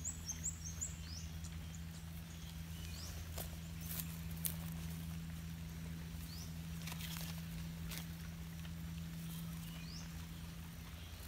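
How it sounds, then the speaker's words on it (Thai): Rain patters steadily in a black forest on a rainy day, with faint scattered drips and occasional distant bird chirps over a low constant hum, no talking. "ฝนมันตก"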